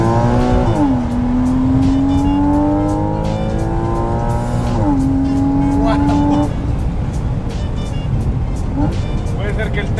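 A Porsche sports car engine revs loudly and climbs through the gears, with a sharp drop in pitch at each shift, then the engine note fades into road noise.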